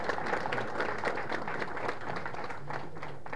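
An audience at a film directors' day press meet claps for the cultural committee, a steady ripple of hand claps filling the room at moderate loudness.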